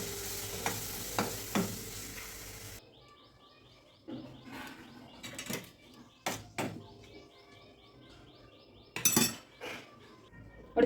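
A spoon stirs coriander-cumin powder and red chili into a dried pea and potato curry in a pan. Intermittent metallic scrapes and clinks sound against soft sizzling, with quiet pauses between strokes.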